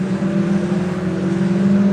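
Race cars on a green flag lap at Donington Park, a steady, even engine hum from several cars at moderate pace, continuous and fairly close with no voices over it.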